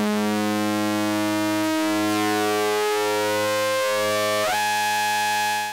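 FM Aid Eurorack module running analog through-zero linear frequency modulation, a sustained synth tone whose harmonics shift and sweep in steps, with a pulsing low note that changes timbre near the end, loud and alone.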